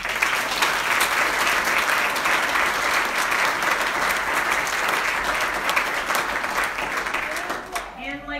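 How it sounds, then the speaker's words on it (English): An audience at a children's Christmas performance gives a full, steady round of applause that fills most of the time, tapering near the end as a voice begins speaking. "So one more round of applause"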